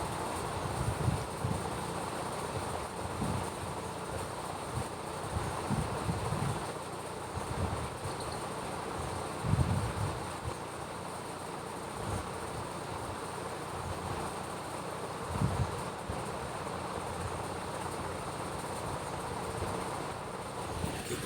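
A train rumbles steadily, slowing into Jalgaon station, with low rolling noise and occasional clunks, heard from inside a first-class AC coach without any talking.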